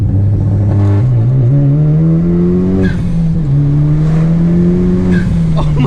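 A Honda Civic Type R with rolling anti-lag pulls hard in second gear, its engine loud and close with a rising drone that climbs, dips and climbs again, punctuated by sharp pops and crackles.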